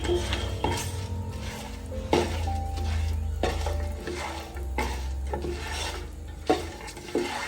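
A bay leaf sautés in hot oil in a pot for Arabic chicken mandi, giving a close, steady scraping and stirring sound with a soft sizzle underneath and a few sharper utensil knocks, with no one talking.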